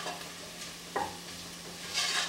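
A spoon stirs lentil ragu vegetables and bay leaves in a pot, a soft gentle sizzle with one sharper scrape near the middle, close and fairly quiet.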